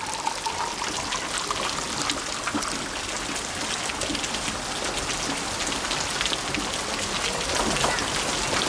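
Heavy rain pours down steadily in a very wet place, a dense, even hiss of drops on surfaces that holds unbroken from start to finish with no voices.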